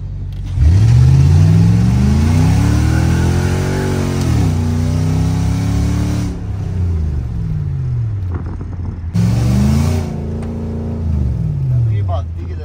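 A V8 BMW car fitted with a new exhaust and intake revs hard, its engine rising and falling in long sweeps, loud and close, then blipping again after a short lull, with talk mixed in.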